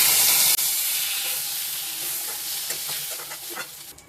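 Prawns sizzle in hot mustard oil while being lightly sautéed for dab chingri, a loud, steady frying hiss that fills the pan at close range, easing slightly over time with a few soft crackles and stirring clicks.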